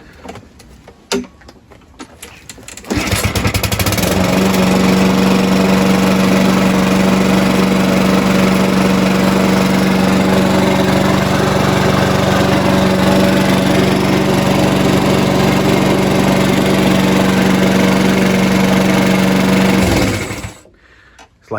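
A Mountfield lawnmower engine, fitted with a replacement carburetor after surging and hunting, starts after a few faint knocks and runs loud and steady for about seventeen seconds with a constant drone, then cuts out abruptly.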